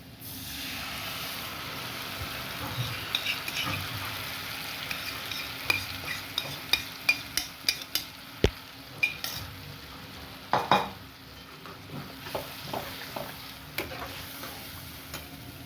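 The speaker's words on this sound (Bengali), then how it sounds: "এবার আমি এই গ্রেভিটা যে মিশিয়ে রেখেছিলাম সেটাকে এখানে দিয়ে দিচ্ছি, ঢেলে দিয়ে দিচ্ছি" Mixed gravy poured into a hot pan for a no-onion, no-garlic paneer curry, hissing steadily while a spatula scrapes and taps through a run of quick, close stirring strokes.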